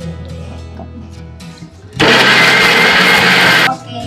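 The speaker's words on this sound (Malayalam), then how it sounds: "നമ്മൾ നേരത്തെ പൊടിച്ച ആ ജാറിൽ തന്നെ നമുക്ക് ഈ പഴം ഒന്ന് അരച്ചെടുക്കാം." A mixer grinder jar purees ripe poovan bananas, a loud steady whirring burst of about two seconds following quieter kitchen sounds.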